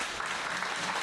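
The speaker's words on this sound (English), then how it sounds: "should give yourselves a very, very big round of applause" Club audience applauding at an underground wrestling event announcement, a dense, continuous burst of clapping heard briefly and fairly faint.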